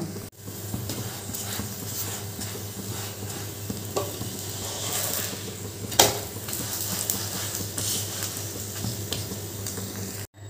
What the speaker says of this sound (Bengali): একটু উল্টে পাল্টে আগে সেঁকে নিই, তারপর তেলটা দিয়ে ভাজবো।